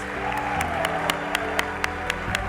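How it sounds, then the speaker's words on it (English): Applause from a crowd of family and friends at a medical school white coat ceremony, continuous clapping with sharp accented claps and a low sustained tone underneath, plus light cheering. "give all of our spouses, parents, family members, and friends a huge round of applause"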